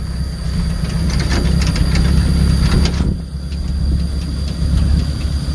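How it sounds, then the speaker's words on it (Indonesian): A motorcycle engine rumbles loudly and close, a steady low drone that dips briefly before carrying on. "Aku numpak motor dhewe."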